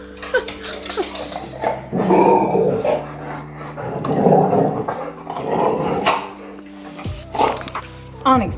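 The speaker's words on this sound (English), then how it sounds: "Onyx, what's up, dog?" A dog growls and barks close by in a home, the sounds coming in several short bursts. A person's voice is heard now and then between them.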